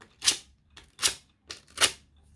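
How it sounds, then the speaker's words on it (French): Three or four short, raspy strokes of sandpaper sharpening a paper cutter blade, close and fairly loud, separated by brief pauses. "Donc avec le papier de verre, je vais venir comme ça."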